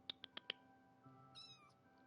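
Four short, bright meows from a cat in the Minecraft video game, evenly spaced in a quick run, then a quieter higher chirping sound over a soft steady game backdrop.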